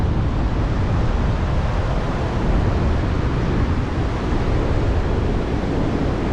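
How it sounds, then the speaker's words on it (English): Ocean surf breaking at a beach in El Salvador, a steady, broad wash of waves rolling in continuously with no pauses, fairly loud and close, heard alone without voices. "the waves don't seem too big here like they were where I was yesterday"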